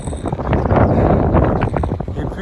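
A light north headwind buffets the microphone while cycling on a road at about 7 degrees, a loud rumbling gusty roar throughout.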